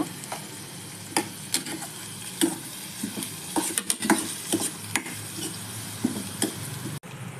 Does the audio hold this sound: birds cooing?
no